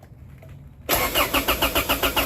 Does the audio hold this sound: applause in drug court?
no